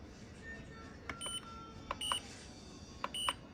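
A slow cooker's timer beeps in short electronic bursts as it is set for an eight-hour beef stew, three clusters of quick tones over quiet kitchen hum.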